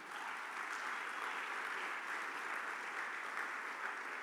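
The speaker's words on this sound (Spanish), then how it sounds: "Denle un aplauso al Señor esta mañana." A church congregation at a morning service gives a sustained round of applause, an even, dense patter of many hands heard at a fairly low level and somewhat distant throughout.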